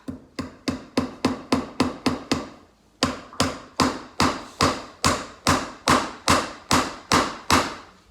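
Sharp, even hammer strikes on nails for string art in two runs: a quick burst of about ten blows, a short pause, then a slower, steady series, close and loud.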